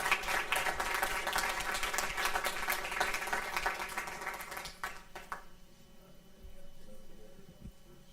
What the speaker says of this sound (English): can we have a round of applause for our RBC Students of the Month?